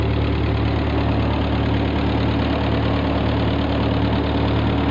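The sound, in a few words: 1948 Ford 8N tractor engine running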